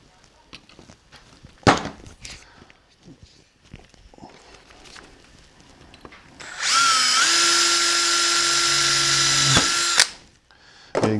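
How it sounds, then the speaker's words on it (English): A power drill bores a hole into a Jyn Erso A180 blaster kit, whining loudly and steadily for about three seconds before stopping, with scattered handling knocks and shuffling before and after. "I'm just going to do 1 hole at a time to make sure that I get this thing where I want it before I drill all the holes."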